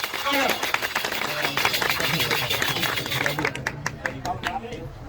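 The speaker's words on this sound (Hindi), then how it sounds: "जोरदार तालियों के साथ" Loud applause from a crowd of villagers at a Holi felicitation, dense steady clapping that fades near the end while a voice talks over it.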